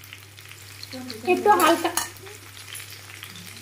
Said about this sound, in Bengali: এইভাবে নাড়তে নাড়তে একটু ভেজে নিতে হবে।